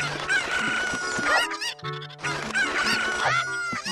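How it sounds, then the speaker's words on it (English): Cucco chickens in the Zelda Ocarina of Time video game squawk and cluck loudly and continuously as they are tossed, layered over game music. "I'm just gonna toss some birds around"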